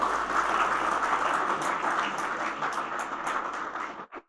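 An audience at a medical honors premiere event claps steadily for about four seconds, a dense even applause that stops abruptly.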